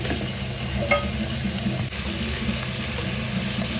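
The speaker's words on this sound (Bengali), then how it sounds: "এখন আমি চিকেনটাকে একটু ভেজে নেব" Chicken frying in a pan, a dense, even sizzle that carries on steadily from start to finish with a faint clink partway through.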